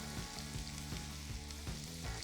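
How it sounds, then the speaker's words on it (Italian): Garlic frying in hot oil while making pasta with zucchini and sausage, a steady close sizzle with a few stirring scrapes and no talk. "Verso l'aglio in olio caldo"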